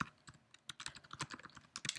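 Fingers type an email on a computer keyboard in a quick, uneven burst of close key clicks and taps lasting about two seconds. The clicks are faint overall, with no voices.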